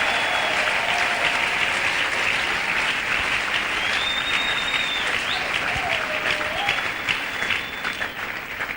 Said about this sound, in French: Est-ce que quelqu'un peut m'aider à nous offrir une offrande d'acclamation?